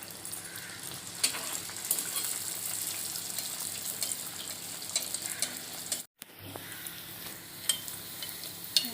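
Bhature fry in hot oil. A steady, close crackling sizzle runs throughout, with small bubbling pops and a brief cutout partway through.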